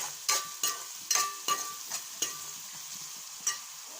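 Fish pieces for fish pulusu fry in a pan with a soft, steady sizzle. About eight sharp scraping stirs of a utensil against the pan stand out at an uneven rhythm.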